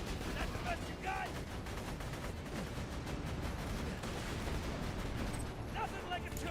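Sustained automatic turret gunfire from the video game Borderlands 2 keeps up a dense, steady rattle of shots throughout, with brief voice-like sounds breaking in over it.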